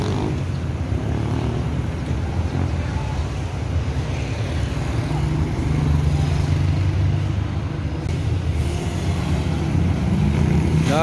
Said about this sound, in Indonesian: Dari arah Jakarta masuk lagi satu unit bus.